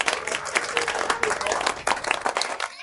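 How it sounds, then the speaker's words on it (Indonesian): A crowd applauds at a small gathering celebrating a newborn baby, dense steady hand clapping from many people filling the whole stretch at close range, with a few voices mixed in. "Tepuk tangan."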